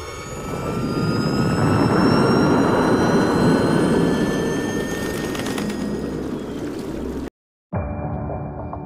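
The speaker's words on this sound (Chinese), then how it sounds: "发动机启动。" A military jet engine starts up with a loud, steady roar and rising whine that holds for several seconds, then cuts off abruptly before a quieter hum resumes.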